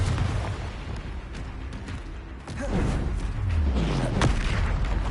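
A Confringo spell blasts in the Hogwarts Legacy open-world video game, giving deep, rumbling explosive booms over a dense bed of game noise that swells after the midpoint.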